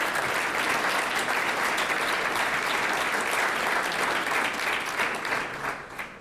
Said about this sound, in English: Let's give this hotel a big round of applause